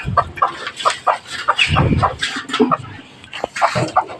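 Hens cluck in quick, repeated bursts close by, some calls rising into longer squawks, with brief quiet gaps between.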